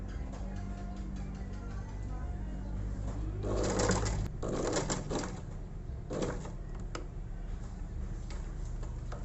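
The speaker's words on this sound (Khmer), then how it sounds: "ហើយខ្ញុំបានដេរួចហើយ" A sewing machine runs in short rapid ticking bursts while stitching a shirt collar, close and steady over a constant background hum.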